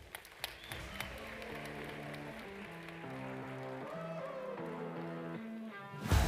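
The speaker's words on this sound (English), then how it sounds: "A round of applause for him." Audience applause at the SA Sport Awards ceremony, honouring a sprinter with Under-20 world gold in the 100 m and 200 m, steady and moderately loud, blended with stage music and ending in a brief louder burst.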